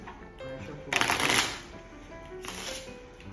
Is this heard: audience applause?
no